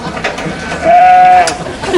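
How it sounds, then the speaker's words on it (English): A sheep on a farm with its horn stuck in a gate lets out one loud, wavering bleat, close by and alone, with faint background noise around it. "the sheep's got its horn stuck in the gate"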